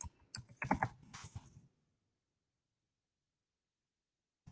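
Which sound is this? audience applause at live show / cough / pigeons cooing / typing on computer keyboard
typing on computer keyboard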